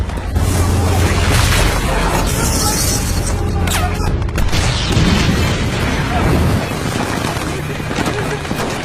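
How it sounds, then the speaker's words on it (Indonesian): Artillery shells from Japanese guns firing down from the mountains pound a World War II battlefield in a war film, with loud continuous booms and rumbling blasts layered under dense battle noise throughout. "Sedangkan langkah tragedi ini masih digempur tanpa henti oleh artileri Jepang dari atas pegunungan."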